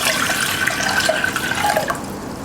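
Water poured into a pot while making Vietnamese pickled mangos, a steady splashing, gurgling stream rising slightly in pitch as the pot fills, then easing off near the end, no speech.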